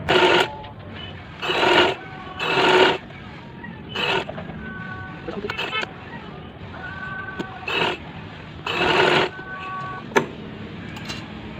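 A sewing machine stitches a two-year-old's designer frock with side pleats, running in several distinct bursts of a few seconds each, separated by quieter pauses and small clicks as the fabric is turned.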